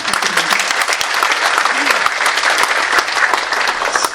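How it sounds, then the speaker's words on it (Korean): An audience at a Gyeongbuk education book concert gives a loud, sustained round of applause with a few whoops and voices mixed into the clapping. "박은재 감독님께 큰 박수 부탁드립니다."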